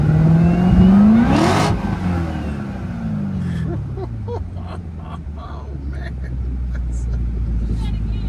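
A Corvette Z06 engine revs hard and accelerates, its loud rising whine climbing in pitch and then easing into a steady, roaring drone as the car pulls away, with voices chattering over it.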